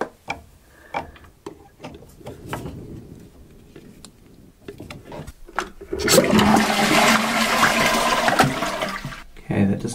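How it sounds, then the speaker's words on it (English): Toilet flushing while its tank drains after the water supply is shut off. Several clicks and knocks from the handle and tank come first, then a loud rushing gush of water runs for several seconds and ends abruptly. "I'm going to isolate the water and then drain the tank"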